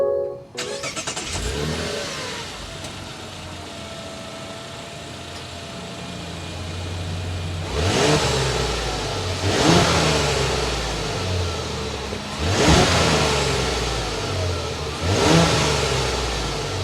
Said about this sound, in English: start up this inline 6 turbo so you can hear that exhaust note